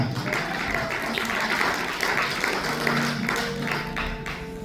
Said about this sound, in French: Applaudissez mon Dieu pour ça.